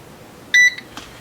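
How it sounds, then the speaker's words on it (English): An electronic powder dispenser scale signals the target charge weight of Varget powder for .223/5.56 reloading with a single short, bright beep, close and clear against a faint quiet background. "when it hits the target grains, you hear the beep"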